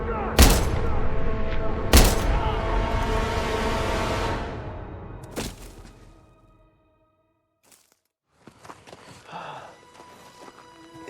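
Sharp gunshots in the Call of Duty WW2 video game: two loud close cracks, then a long reverberant rumble, another shot, a silent pause and fainter scattered battle noise.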